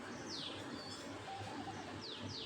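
Birds in a village chirp in short, faint, sweeping tweets against a soft outdoor background. A few calls come in separate bursts, with possible distant cooing underneath.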